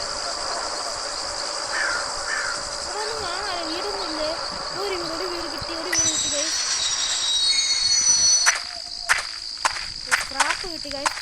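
A video-game train rumbles steadily with a high metallic squeal from its wheels, someone talking over it, then a run of sharp clacks near the end.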